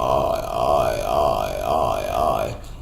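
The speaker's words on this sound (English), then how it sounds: "that's a vocal fry." A sustained low creaky voice, a vocal fry with a wavering, pulsing pitch, held for over two seconds before cutting off.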